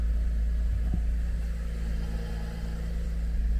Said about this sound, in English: It is a nice sounding car.